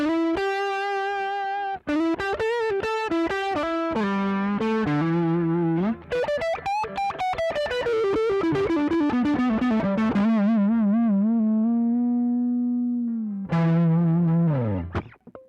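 Distorted electric guitar from a Gibson Custom Shop CS-356 playing a sustained lead line with bends and vibrato, loud and saturated, ending on a held note followed by a brief flourish.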